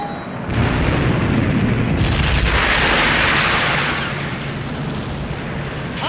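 A warship's turret guns firing during a World War II battle scene, a heavy, rumbling boom and roar that fills most of the clip and then eases into a lower, sustained wash of noise.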